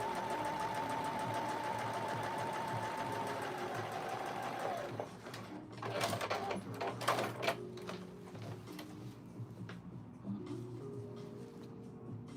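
A home sewing machine stitches pleats on a Simplicity S3006 pattern, running steadily and close for several seconds before stopping, followed by fabric handling, clicks and bumps.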